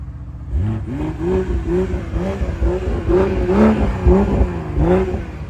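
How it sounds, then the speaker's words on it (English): A Mercedes-AMG with over 500 horsepower revs repeatedly on a street at night, a series of sharp throttle blips rising and falling in pitch, loud and close, with no talking. "Give some revs, give some revs."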